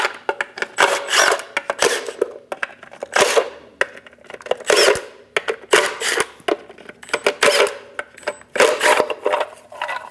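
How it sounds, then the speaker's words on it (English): A 22mm socket loosens the eight lug nuts on the rear wheel of a Chevrolet Express 2500 van, producing repeated loud rasping ratchet bursts in an uneven rhythm with short pauses between turns. "Using a 22mm socket, remove the 8 lug nuts."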